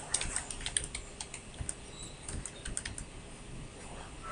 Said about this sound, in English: You type your email address.